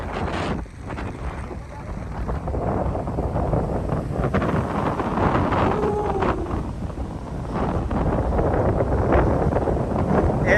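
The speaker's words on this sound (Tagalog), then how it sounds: "Lakas ng hangin" Strong wind at the Bangui windmills buffets the microphone in a continuous roar, steady and loud throughout, with a faint wash of surf underneath.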